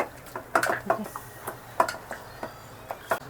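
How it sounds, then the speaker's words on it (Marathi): Chicken being mixed by hand with a masala marinade in a bowl, giving soft, irregular clinks and squelchy taps spread over a few seconds, moderately close and fairly quiet. "आता हे पूर्ण प्रॉपर मिक्स करून घेऊयात"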